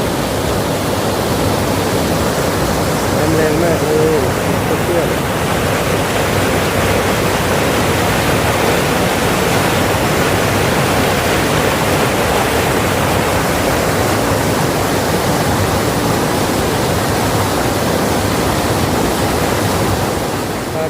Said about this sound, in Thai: น้ำก็จะไหล แรงมากเลยนะครับ เป็นเขื่อน เป็นน้ำล้นนะครับผม